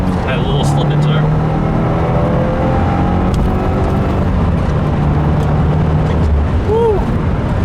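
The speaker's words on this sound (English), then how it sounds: "I'm gonna start with my infamous second gear pull." Turbocharged 2015 Subaru WRX with a stage 1 tune pulls hard in second gear on a rainy road, its engine note climbing steadily and loud inside the cabin, with tires hissing on wet pavement underneath.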